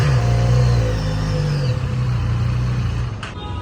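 Superbike engine in a showroom, a steady mid-pitched rev held for several seconds that eases slightly toward the end, loud and close, with a brief click near the finish; no talking.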